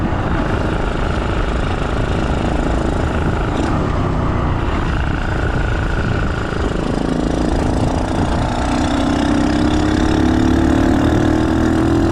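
A small Draft Orange motorbike engine runs steadily while riding Cornish country lanes, a continuous loud drone with a rising pitch toward the end as the bike speeds up, with no talking.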